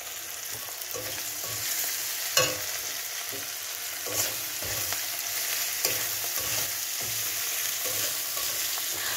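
Masala spices sizzling and being stirred in a pan for fish curry with cauliflower, a continuous close frying hiss broken by scraping stirs and a few sharper spatula knocks, with no talking.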